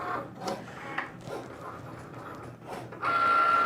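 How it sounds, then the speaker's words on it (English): A Cricut cutting machine runs nearby with irregular mechanical whirs and clunks, then settles into a louder, steady motor drone near the end. "This Cricut is so loud."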